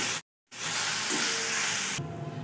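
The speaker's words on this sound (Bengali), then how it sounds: "এখন এর মধ্যে আমি চালটা দিয়ে দেব, চালটা দিয়ে আমি চালটা এখন ভেজে নেব ভালো করে।" Rice fries in ghee in a pan, a dense, steady sizzle after a brief silent gap, easing slightly toward the end.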